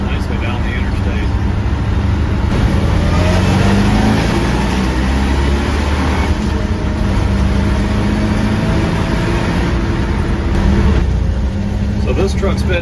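An old family pickup with a fuel-injected V8 and a 4-speed cruises down the interstate, its engine droning in a steady low rumble with road and wind noise throughout.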